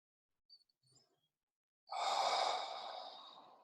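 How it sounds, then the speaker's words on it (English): A person takes one long, deep breath, loud and close, after a couple of faint small mouth sounds in near silence. It comes from a guided meditation on letting go. "And breathe that in."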